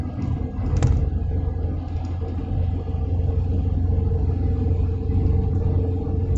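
A car drives through a road tunnel, with a steady, close, low road rumble and engine drone that holds at an even level throughout.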